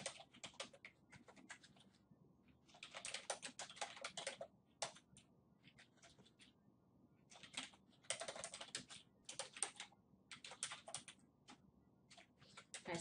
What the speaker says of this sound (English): So let me just go ahead and type all that in first.